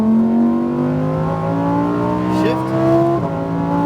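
Lamborghini Huracan STO engine on a track, near and loud, its pitch climbing steadily under throttle with a quick shift step midway before rising again.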